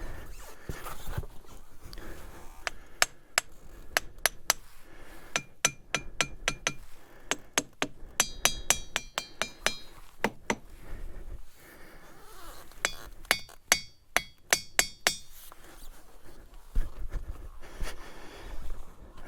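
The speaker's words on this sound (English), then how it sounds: "Take your hammer and you find a rock. Each rock makes its own noise." Rapid series of hammer strikes on ringing rocks at Pipestone, Montana, dozens of bright clinking, bell-like taps in quick bursts and pauses, close by with faint outdoor ambience.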